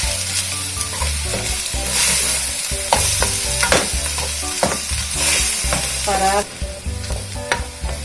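Onion and tomato stirred in a hot pan, sizzling loudly and steadily with repeated scraping and clinks of the spoon throughout, no talking.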